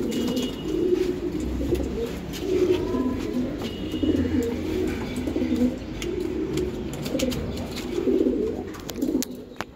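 Giribaz high-flying pigeons coo steadily at a loft, layered soft throaty calls rolling in overlapping waves at close range, with faint chirps and rustling above and no talk.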